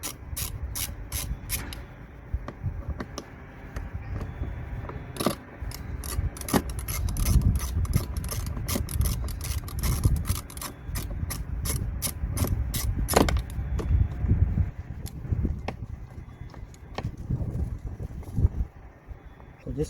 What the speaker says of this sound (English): we're gonna be using T25 bit to remove these two